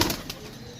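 Pigeons offered for sale flap their wings in a short, close burst of two or three soft flutters, then a brief quiet rustle.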